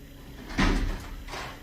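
A door thuds shut in an old abandoned house, one solid close followed a moment later by a softer second knock or rattle, with no talking.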